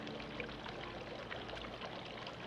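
Four ounces of tequila poured steadily for a strawberry margarita, a continuous close liquid splash lasting a couple of seconds, with no talk.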